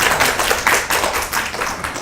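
An audience applauds at a career mentoring event, a dense continuous patter of many hands clapping, loud and close, filling the whole moment without a pause.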